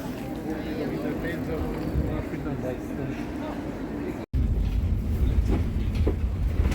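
A Brussels tram rumbling along on rails in the evening with a steady low roar, briefly cutting out, then continuing with rattling; voices are faintly audible in the background.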